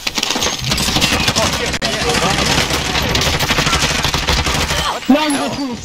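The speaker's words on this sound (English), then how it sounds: "Taking fire!" Rapid gunfire crackles nonstop during a Warzone video game match, a dense, loud fusillade of shots with voices calling out over it.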